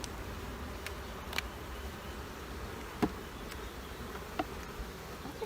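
Honeybees buzz softly and continuously around an opened beehive during a spring inspection, with a few faint clicks and knocks from handling the hive frames.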